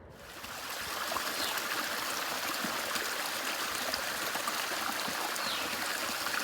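A stream flowing into Zealand Falls Pond gives a continuous, even rush and trickle of running water, close and steady after a brief quieter start, with no talk.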